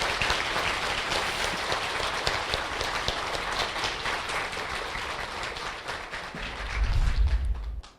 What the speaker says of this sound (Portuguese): Essas palmas são para o Cristo